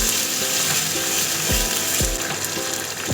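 A spice paste hits hot oil flavoured with cinnamon and green cardamom for Badshahi potol, giving a steady, loud, close sizzle with a regular rasping scrape of stirring every half second or so.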